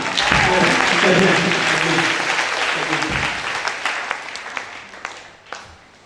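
Audience applause at a French-language church sermon, a dense wash of clapping that starts loud and gradually thins into scattered individual claps before fading out.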